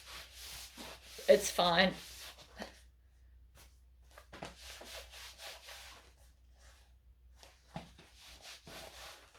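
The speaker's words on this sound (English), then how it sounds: "Now just let me wipe it on my pants." Cloth rubs against trouser fabric in a few short, scratchy swipes to wipe chalk away, quiet and close, with a brief spoken remark between the strokes.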